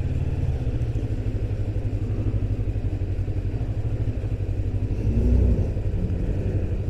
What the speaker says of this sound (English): I'm finding it really easy to control this bike at slow speed on the clutch